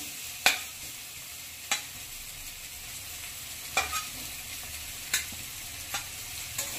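Fried potatoes being sautéed with spice masala in a pan, a low sizzle under sharp, spaced scrapes and taps of a spatula, no talk.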